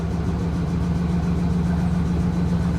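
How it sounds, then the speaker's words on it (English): A big Ram 1500 pickup idles roughly with a misfire, a low, steady engine drone with a faint uneven pulse running underneath, heard close and constant with no talking. "She's misfiring something fierce."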